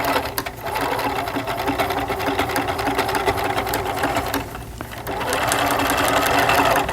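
A sewing machine stitches around a fabric belt, whirring in a steady, close mechanical drone with a brief dip in speed before running on.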